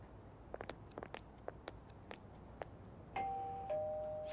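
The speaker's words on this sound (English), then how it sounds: "You ring the bell." A doorbell in the video game Persona 5 Royal sounds as two sustained electronic chime tones after a run of faint soft taps, quiet and without voices.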